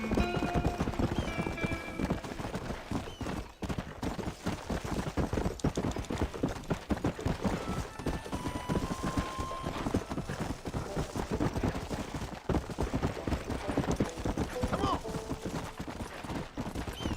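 Galloping horse hooves from the Western video game Red Dead Redemption, a fast, continuous clip-clop rhythm that runs steadily across the whole stretch with occasional game tones and effects layered in.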